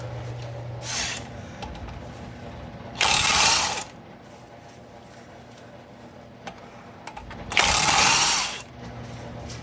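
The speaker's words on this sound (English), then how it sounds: "I am next going to pull out the two bottom ball joint bolts." A hand ratchet loosening the bottom ball joint bolts on a 1983-1988 Toyota Tercel during CV shaft replacement, with two loud bursts of rapid clicking separated by quieter shop background and a few small knocks.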